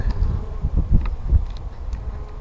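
Honey bees buzzing close by at a top bar hive in a low, uneven drone, with soft rustling and handling noises mixed in.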